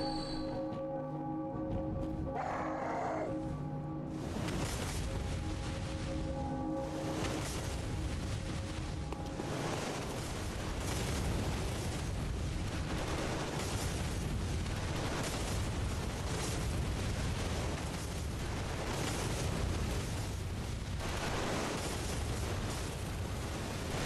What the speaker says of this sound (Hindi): जब वो उससे हट जाएगा तो ये गोलियां चलाना बंद कर देंगे